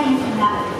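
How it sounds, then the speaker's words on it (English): Rumble of a Tokyo local train bound for Shibuya pulling into a station with a brief metallic squeal, close and loud, no talking. "The local train bound for Shibuya is arriving at track 1."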